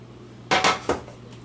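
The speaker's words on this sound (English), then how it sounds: "Give that a nice little stir." Beef bourguignon with mushrooms and butter being stirred in a pot gives three quick, close metallic clinks of a spoon against the pot. Each clink is sharp and brief, over a low steady hum.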